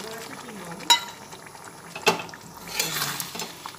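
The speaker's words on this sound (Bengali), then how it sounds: "আবার মাংসটা কষিয়ে নিচ্ছি" Chicken being stirred and browned in oil in a pan with a faint sizzle, punctuated by sharp metallic clinks of a spoon against the pot.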